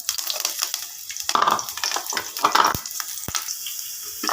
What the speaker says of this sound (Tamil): எண்ணெய் காஞ்சிருச்சு. பச்சை மிளகா, பூண்டு சேர்த்துக்கலாம்.